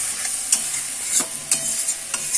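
Fish curry sizzles steadily in a hot pan as water is added, a continuous bright hiss broken by a few sharp clinks and scrapes from stirring at regular intervals, close and fairly loud with no voices.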